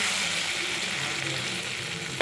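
Steady close sizzling hiss of boiled potatoes with turmeric and spices frying in a wok, unbroken and fairly soft, with no voices.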